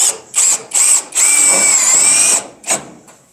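A power drill drives screws into a cabinet in a garage workshop: several short, loud whirring bursts, then one long sustained run and a final quick spurt, heard close with no talk.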